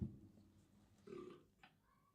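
A person lets out a short burp over a faint background, followed by a second brief, croaky belch, both fairly quiet and caught at some distance from the microphone.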